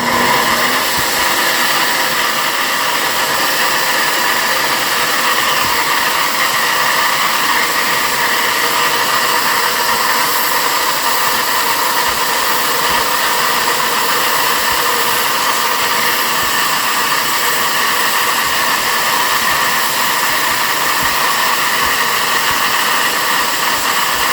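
Cylinder head air flow bench testing a ported Chevy Fuelie 041x chamber head, a loud steady roaring rush of air and motor drone held constant throughout, with no speech.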